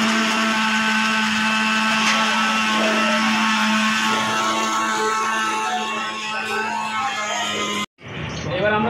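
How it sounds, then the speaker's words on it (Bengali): Electric blender grinding ginger, garlic and green chili into paste, a loud continuous whirring motor with a steady high whine that cuts off abruptly near the end, followed by a voice speaking. "আদা, রসুন, লঙ্কা দুটো সব পেস্ট করছি"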